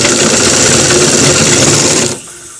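A sewing machine runs a fast, steady stitching burr along a shirt collar, loud and close, then cuts off abruptly near the end.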